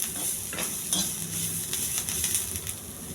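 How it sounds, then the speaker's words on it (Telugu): Mint and other chutney ingredients frying in a pan over a low flame, with roasted gram in the dish. A close, continuous sizzle runs throughout, broken by the scrape and clatter of stirring. "మాడకుండా సిమ్లో పెట్టుకొని జాగ్రత్తగా వేగించాలి."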